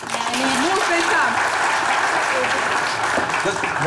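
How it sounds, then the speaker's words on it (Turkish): A studio audience claps in a dense, steady burst of applause, loud and close, with a voice speaking over it. "Alkış!"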